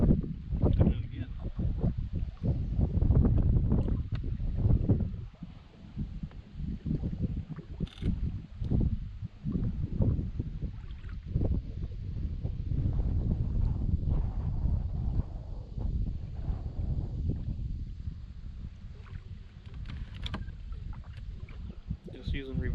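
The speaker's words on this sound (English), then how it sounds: "Just using reverse on the motor to keep us in one spot with the wind blowing us in." A small motor holding a kayak in reverse on a windy lake: a low, uneven rumble with gusty wind buffeting the microphone throughout.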